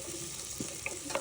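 Onion fries in a pan for lugaw, a brief, faint hiss of sizzling with a couple of small clicks.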